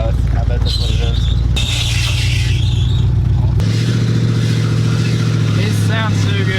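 A 1965 Ford Mustang engine fires up and keeps running, a loud, rough rumble up close that shifts in pitch and revs unevenly, with people talking over it.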